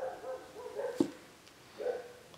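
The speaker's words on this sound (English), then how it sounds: "There are dogs barking." Dogs bark in the distance, a few short muffled yips and whimpering calls spread across the moment, faint and a little irregular, with a sharp knock in between.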